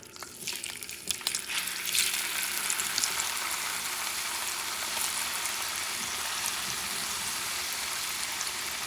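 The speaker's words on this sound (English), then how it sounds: "Now it's time to fry the potatoes using same oil." Steady loud sizzling of potatoes frying in reused oil for homemade chips, a dense crackling hiss that settles into a continuous even fry.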